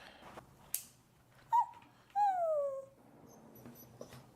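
A fluffy Eurasier puppy, a Spitz-type breed, makes a few soft, high squeaky whines and yips, one drawn out and falling in pitch, separated by quiet pauses in a calm indoor setting.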